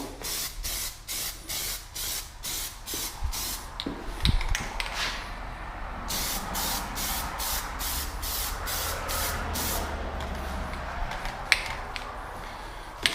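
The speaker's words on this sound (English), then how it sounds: "Just a very basic dust coat." Short bursts of spray paint from an aerosol can lay a light dust coat on miniatures, hissing in quick repeated passes back and forth, close and steady, with brief pauses between strokes and no talking.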